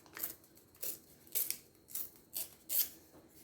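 Paper being torn by hand to give a vintage ripped edge for a collage, about six short, crisp rasping tears in an even rhythm, close and fairly quiet.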